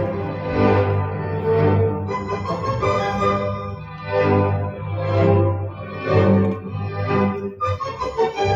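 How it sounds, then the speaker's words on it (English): Slow, swelling orchestral music from a baseball-themed Brahms piece plays alone, with sustained phrases rising and falling in volume at a moderate level. "we have some slow motion music"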